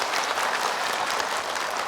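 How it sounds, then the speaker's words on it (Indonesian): An audience claps steadily and densely throughout, a continuous, fairly loud wash of hand claps with no break and no talking. "Boleh tepuk tangan dah."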